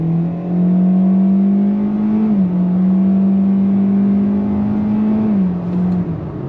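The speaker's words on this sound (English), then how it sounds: "we're gonna go on throttle once again here to show you that 0 to 60" A 2023 Kia Soul accelerates from a dead stop at full throttle toward 60 mph. Its engine drone is loud and steady from inside the cabin, with brief dips in pitch as the automatic transmission shifts.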